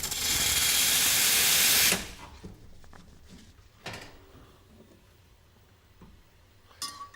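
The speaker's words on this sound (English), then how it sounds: "Purge the steam nozzle." A short burst of steam purged from an espresso machine's steam nozzle, a loud broadband hiss lasting about two seconds that cuts off abruptly, followed by faint clicks and quiet handling noises.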